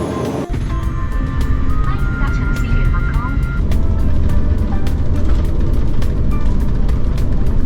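A Starlux Airlines Airbus A350 takes off, heard from inside the business-class cabin as a loud, continuous engine roar with small rattles and clicks, and a voice is partly heard over it.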